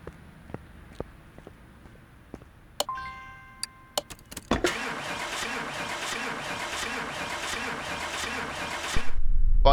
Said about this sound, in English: Finally the car starts.